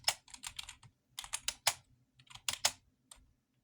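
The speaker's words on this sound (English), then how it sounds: "I'm typing so hard." Hard, fast typing on a computer keyboard, close and crisp, with irregular bursts of clattering keystrokes separated by short pauses and no talking.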